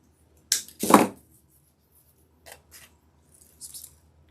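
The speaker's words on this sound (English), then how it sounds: "Cut this one." Scissors snip a craft stem for a fall pumpkin swag: two quick close cuts near the start, then a few fainter snips and rustles spaced over the following seconds, with no talking.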